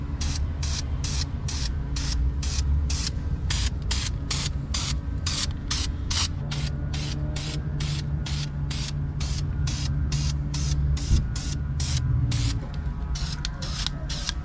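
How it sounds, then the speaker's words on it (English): Primer is sprayed onto the brake calipers of a Mitsubishi Bravo kei van in a quick, regular run of short hissing bursts, close by, with no talk. "Now that we're all prepped and ready to go, I'm gonna do 2 coats of this primer"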